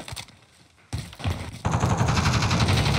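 Rapid bursts of QBZ rifle fire in a first-person shooter video game, with a short pause and then a sustained, loud automatic volley up close.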